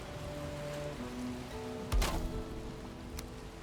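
Steady rain in the game Valheim forms a constant soft hiss, with a brief low thump and splash partway through and faint tonal hums underneath.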